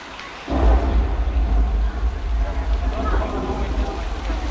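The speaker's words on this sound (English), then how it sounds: "The rain effects, those are sprinklers shooting the water straight up into the air, allowing the water to fall down naturally to the earth, just like rain would." Steady broadband hiss of sprinkler water falling like rain at a Hollywood studio backlot tour, with low rumble from the tour tram and a murmuring crowd underneath; the wash starts abruptly and holds continuously.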